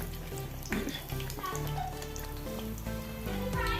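Bread slices frying in hot oil for a bread bajji snack give a steady crackling sizzle, like rain on a surface, with soft background music underneath throughout.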